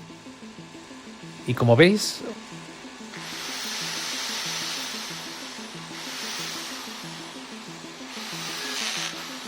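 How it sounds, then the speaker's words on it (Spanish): A steady 850-watt electric drill motor hums throughout, rising and easing in waves, with a brief burst of speech and a clatter early on. "vamos a empezar conectando de nuevo la taladradora"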